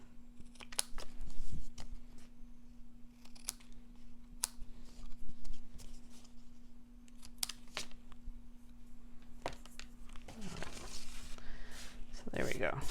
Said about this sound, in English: So then I'm just going to trim it with my scissors.